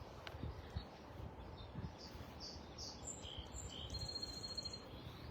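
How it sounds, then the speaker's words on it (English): Faint, high birds chirping and tweeting intermittently in the distance over a low background rumble. "You can hear the birds chirping."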